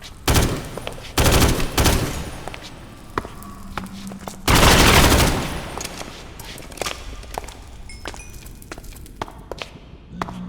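Bursts of modded-gun fire in a Minecraft survival game, loud, dense volleys early on and a long sustained blast in the middle, followed by scattered lighter pings and thuds.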